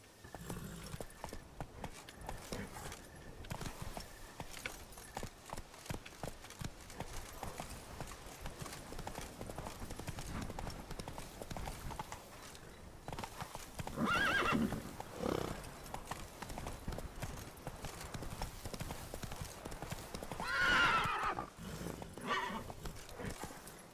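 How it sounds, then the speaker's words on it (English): Roach, the horse in the video game Witcher 3: Blood and Wine, trots with steady clip-clop hoofbeats throughout and gives loud neighs around the middle and near the end, while someone speaks over it. "Whoa there, Roach."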